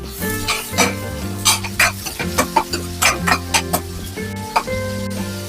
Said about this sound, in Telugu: ఈ ఉల్లిపాయలు గోల్డెన్ బ్రౌన్ వచ్చేంత వరకు ఫ్రై చేయాలి